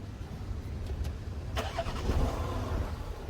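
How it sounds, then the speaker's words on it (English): A car engine cranks briefly and catches quickly, settling into a running idle at moderate distance, with no talk over it. "check out how quickly this car starts"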